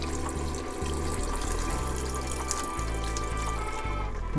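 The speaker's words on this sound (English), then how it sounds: "I'm going to add a little more water." Water pours and splashes into a pot of collard greens that has simmered about an hour with smoked turkey, a continuous close trickle with a low hum from the kitchen underneath.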